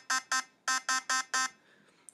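Synth beep patch from NI Massive with a telegraph-like tone: six bright buzzy beeps in two quick groups, clean and close, then a faint tail and silence.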